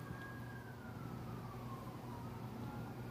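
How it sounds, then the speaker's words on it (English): A distant emergency vehicle siren wails outside, its falling tone sweeping slowly beneath a steady background hum and continuing throughout. "You hear the siren?"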